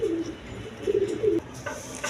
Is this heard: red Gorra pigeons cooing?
yes